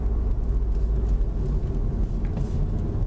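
A car engine drops a gear while slowing for a right-hand curve taken at about 40 km/h, a steady low rumble heard from inside the cabin, continuous and fairly loud with no voices.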